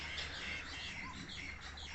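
A bulbul calls in a garden in Pakistan, with bright chirps and tweets layered over steady outdoor background noise, continuous and moderately near for about two seconds.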